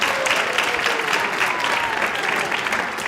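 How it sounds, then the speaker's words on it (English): Steady, dense applause from an audience at a temple celebration, filling the space evenly at full volume throughout without pause. "please give a big round of applause"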